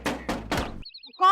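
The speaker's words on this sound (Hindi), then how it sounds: "इतनी जोर से दरवाजा पीट रही थी" Three heavy, loud knocks bang on a door in quick succession, followed by a brief pause and then a voice beginning to speak.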